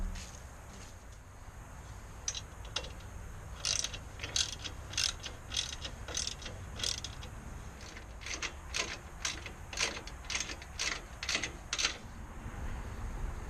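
A ratchet tightens the U-bolts on an Exmark mower roll bar during a propane conversion, with a long series of quiet, steady clicks close by.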